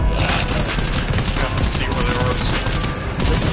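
Rapid gunfire in a Rainbow Six Siege PvE mission, bursts of automatic shots hitting a wall in a dense, loud, continuous volley with some voice chat beneath.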